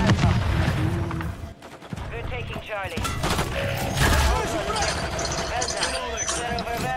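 Gunfire in the Modern Warfare 3 video game, with rapid bursts and shots rattling across a busy combat mix while excited voices talk over it.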